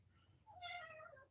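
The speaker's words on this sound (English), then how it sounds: "Here comes the cat." A single cat's meow, drawn out and rising then falling, sounds fairly close but soft against a quiet, low background hum.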